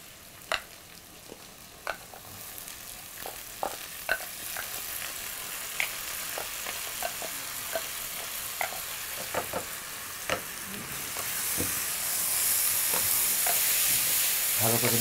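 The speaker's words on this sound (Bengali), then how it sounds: "চালটা পুরোপুরি ভাজতে হবে, চালটা ভাজতে ভাজতে একটা কালার চলে আসবে" Soaked rice fries in a pan, giving a steady soft sizzle that builds toward the end, while a utensil stirs with irregular scraping clicks against the pan.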